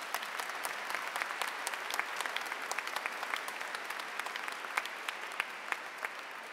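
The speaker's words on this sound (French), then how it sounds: "Nous applaudissons." A church congregation applauding during a Seventh Sunday of Easter service, a moderately distant, steady patter of many hands clapping throughout, fairly soft, with no speech over it.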